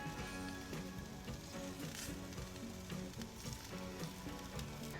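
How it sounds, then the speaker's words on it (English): Pork steaks sizzling loudly on a hot grill grate, a constant crackling hiss with faint tonal music underneath. "That sizzle."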